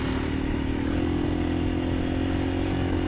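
An enduro motorcycle rides a desert dune track at Merzouga, its engine droning steadily and close throughout with a constant tone and a rough clattering undertone.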